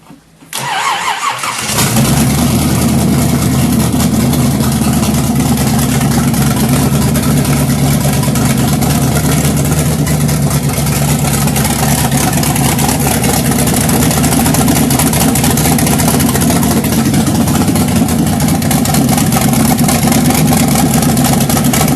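A 1986 Jaguar fitted with a 350 small-block Chevy V8 starts and then idles loud and close, a steady rumbling idle with a rough, lumpy edge that continues without a break.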